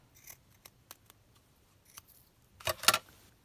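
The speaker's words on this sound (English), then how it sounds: "So I'm just going to trim it slightly." Scissors snip paper scraps for a junk journal: a few faint isolated cuts, then two louder crisp snips close by, in an otherwise quiet room.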